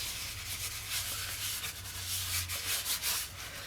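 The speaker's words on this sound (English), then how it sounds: "buff off any excess crayon that's there. And this is just taking it off of the embossing powder." Cloth buffing excess Distress Crayon off black embossing powder on cardstock, a continuous soft rubbing swish with rhythmic back-and-forth strokes, close and fairly quiet.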